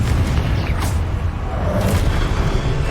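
A Confringo fire spell explodes in the Hogwarts Legacy game, giving a dense, loud, low booming rumble that rolls on steadily for about three seconds with no talk.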